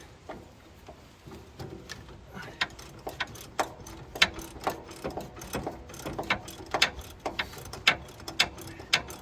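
A ratcheting wrench turns a bolt on a vehicle's fuel tank strap support, giving a long run of sharp, uneven mechanical clicks at close range.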